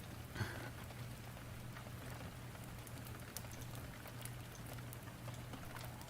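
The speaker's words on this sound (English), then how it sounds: "maybe just let me know if the rain is too loud." Steady rain falls softly and evenly, a faint continuous patter with a low hum underneath and no voices.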